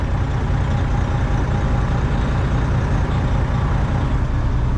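A semi truck idles and rumbles while backing a trailer into a loading dock, a steady close low engine drone that holds even throughout with no talk.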